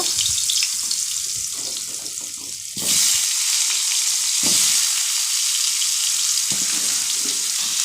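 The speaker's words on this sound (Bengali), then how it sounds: "এবার আলুগুলো ভেজে নেব।" Potatoes frying in hot oil in a home kitchen, a loud continuous sizzle that swells sharply partway through and stays dense, with faint stirring and scraping underneath.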